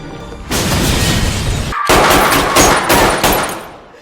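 Loud, continuous blasts and rumbling booms from a bomb exploding in a Korean action film, filling several seconds with a brief silent break before the roar resumes and slowly fades.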